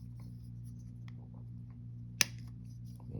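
A single sharp snip rings out as plastic parts from a Palmer Plastics Porsche 356 model kit are clipped off the sprue, set against a quiet background with faint handling noises.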